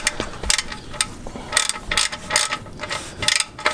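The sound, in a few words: ratchet wrench tightening on a 2013 Dodge Charger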